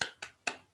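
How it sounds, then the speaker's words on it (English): Three quick, sharp claps from a class of children rewarding a correct answer in a float-and-sink science lesson, close and fairly quiet, evenly spaced with short decays and no talking. "Clap our hands."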